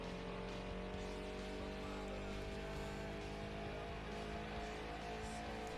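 Engine of a historic race car in a racing video game, a steady, sustained drone with layered tones, held at constant loudness without clear gear changes.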